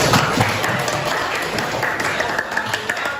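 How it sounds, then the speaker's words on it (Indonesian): A classroom of students applauds at the end of a lesson, a steady wash of clapping filling the short stretch with faint background murmur. "tepuk tangan buat semuanya"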